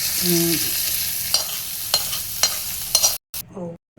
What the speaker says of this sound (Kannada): ಬಿಸಿ ಬಿಸಿ ಒಗ್ಗರಣೆ